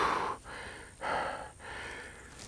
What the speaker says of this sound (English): I'm a heavy breather, folks,